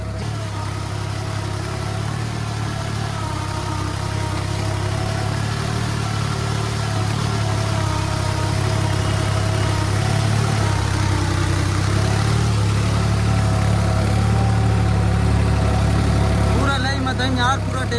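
A New Holland 3630 tractor engine with a 7-foot Shaktiman rotavator runs at a steady, low chugging idle throughout, with a person talking over it.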